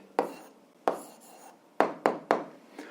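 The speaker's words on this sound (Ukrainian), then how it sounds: "Ну що ж, записуємо відповідь" A pen writes an answer to an algebra exercise: six short, separate scratching strokes, close and fairly quiet, with brief pauses between them; no talk.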